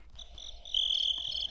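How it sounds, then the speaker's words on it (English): Cricket chirping sound effect played during a podcast, a steady high insect trill that swells louder partway through, heard alone without talk. "Those are crickets"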